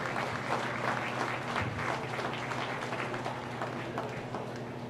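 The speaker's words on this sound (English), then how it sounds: "So let's give a big round of applause to all these exhibitors out here too." Applause for the exhibitors at a county fair junior swine show, a steady wash of many hands clapping from a moderate-sized crowd in a show arena, sustained for several seconds and fading slightly.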